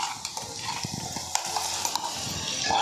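Onions with stalk paste are stirred in a frying pan, with a soft scraping and a few light clinks of the spoon over a continuous sizzle, close and fairly loud.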